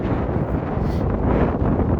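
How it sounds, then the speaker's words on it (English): Strong wind buffets the microphone on a narrow hillside trail at Rock Creek in Denali, a loud continuous low roar with gusting swells and no talk. "It's really windy."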